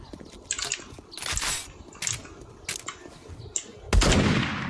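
Shotgun blasts in the survival game 7 Days to Die, several sharp bursts spaced irregularly, the last one the loudest, with wet impact squelches and game ambience between them.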